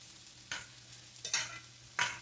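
Vegetables cooking in a crowded skillet, a quiet low sizzle broken by three loud stirring scrapes spaced evenly apart, no voices.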